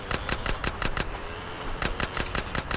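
Rapid bursts of automatic gunfire in GTA San Andreas come as two quick volleys of sharp, evenly spaced shots, loud and close, with a short pause between them.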